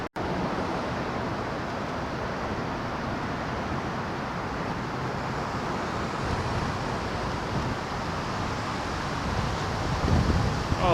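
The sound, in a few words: wind blowing on a downtown street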